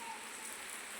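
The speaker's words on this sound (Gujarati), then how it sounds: "વરસાદ ચાલુ થઈ ગયો છે" Big raindrops patter steadily onto a surface near a parked Baleno car, a brief, soft, even hiss of rainfall with no voices.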